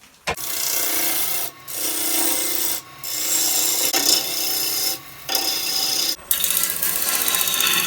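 Birch bowl blank spinning on a wood lathe as a tool cuts away rotten wood to form a tenon, giving loud, steady rasping scrapes in several long passes with brief pauses between cuts.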